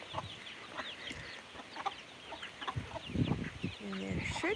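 A rooster and hens cluck and call on a rural South Dakota farm, with short clucks scattered throughout and a louder call near the end, mixed with faint background noise.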